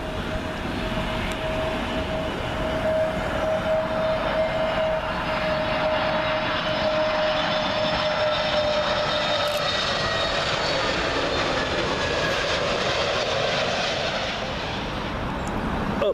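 An Air Malta Airbus A320neo arriving from Malta at Heathrow, a loud continuous jet engine roar with a clear whining tone in the first half, steady and close as it passes overhead.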